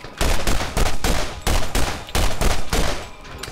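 Sustained bursts of submachine gun fire from a video game in Borderlands, loud and close, coming in several rapid strings separated by short pauses, with no talking.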